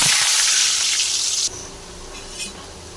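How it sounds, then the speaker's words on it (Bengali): Potatoes frying in hot mustard oil, a loud bright sizzle that drops suddenly to a quieter steady hiss halfway through, with a faint stirring scrape. "এবার আলুগুলো ভেজে নেব তেলটা গরম হলে"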